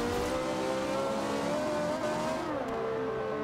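An Italia car cruises along open country roads in Forza Horizon 2 with a loud, sustained engine drone that holds a steady pitch, dipping and rising slightly as the throttle shifts, and carries a constant road rumble beneath it.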